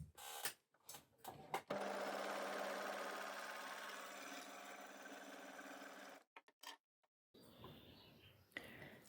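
An overlocker sewing a stretchy seam with Mettler Seraflock thread runs in a steady whirring burst of about four and a half seconds. Short clicks and handling noises come before and after it.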